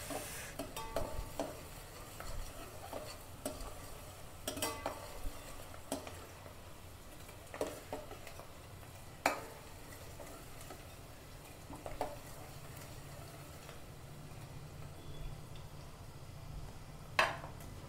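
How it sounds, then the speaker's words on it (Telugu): Onions fry in a pan for chicken curry with a faint, steady sizzle, broken by intermittent stirring scrapes and clinks of a utensil against the pan. "ఉల్లిగడ్డలు అయితే సగం ఫ్రై అయినాయి"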